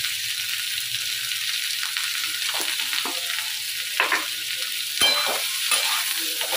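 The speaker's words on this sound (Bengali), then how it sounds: "তো আলুগুলোকে একটু ভেজে নেবো।" Potatoes sizzling steadily in oil in a home kitchen pan while being cooked for aloo posto, with a few scraping stirs of a spatula breaking through the constant frying hiss.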